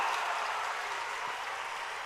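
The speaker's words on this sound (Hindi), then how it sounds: "यही बैठे बैठे जोरदार ताली बजा दो कि दिल्ली तक आपका अभिनंदन पहुंच जाए" A crowd at a Baba Ramdev yoga speech during a Banjara Kumbh gathering in Jamner applauds loudly and steadily, a dense and continuous wash of clapping that fills the whole moment.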